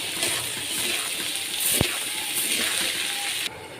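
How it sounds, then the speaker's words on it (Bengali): Hot water gushes and sloshes steadily into a pot of frying pulao rice for a few seconds, with a brief metallic clink partway through, fairly close. "এই যে পোলাওর মধ্যে পানি দিয়ে দিছি"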